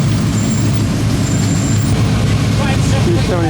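A Ferrari 275 rolls through the gates at the 2016 Pebble Beach Concours, its engine a loud, close, steady rumble throughout.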